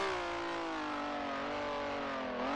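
A racing car engine in Grand Prix Legends holds a steady, loud drone with a sustained high tone that dips slightly and then climbs again at the end, with no talking.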